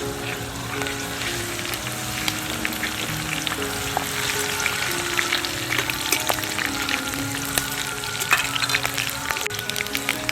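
Spices and curry leaves fry in oil in a pan, sizzling and crackling steadily, a close, continuous frying hiss with occasional sharper pops and no talking.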